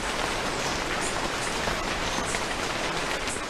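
Rain falls on a restored agroforestry forest, a dense, steady hiss of drops on leaves that stays close and even throughout, with no voices.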